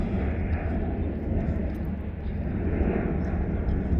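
KLM and Air France jets at Manchester Airport produce a loud, continuous broadband roar, close by and steady, with no distinct breaks.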